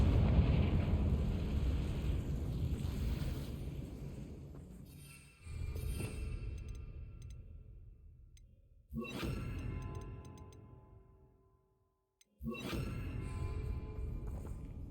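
Confringo spell explosions in Hogwarts Legacy in a cave, four separate blasts, each a sudden loud burst followed by a rumbling, crackling decay that fades before the next, with no voices.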